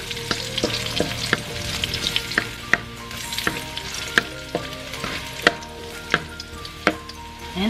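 Garlic and ginger sizzle in oil in a pan for chicken curry, a steady close frying hiss punctuated by regular sharp clicks of a utensil stirring against the pan.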